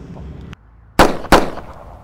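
Two sharp gunshots in a short-film street confrontation, about a third of a second apart, loud and close, each a hard crack with a brief ringing tail after a muffled scuffle.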